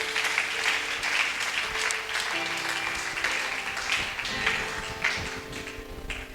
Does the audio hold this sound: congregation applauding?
yes